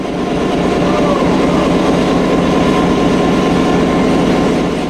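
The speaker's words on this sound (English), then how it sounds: "This 16-cylinder, 1500 horsepower unit is still running in great condition." An EMD 9000 16-cylinder, 1500 horsepower diesel locomotive, the first EMD built for a Canadian railway, running steadily at a railway museum: a loud, continuous, close engine drone with a rhythmic pulsing throb and a faint high whine.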